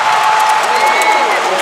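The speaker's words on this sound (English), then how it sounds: "Crowd coming alive here, they smell the comeback." A basketball arena crowd at a TPBL playoff game applauds and cheers in a dense, loud, continuous wash of clapping and voices.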